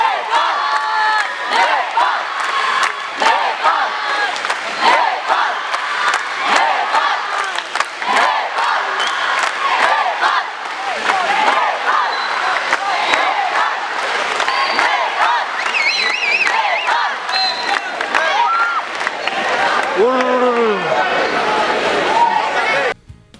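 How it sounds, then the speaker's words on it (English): Large crowd at a university event in Bangladesh cheering and chanting Nepal, a dense continuous roar of voices with whoops and shouts that stays loud and close for over twenty seconds. "We were so happy to hear the crowd cheering."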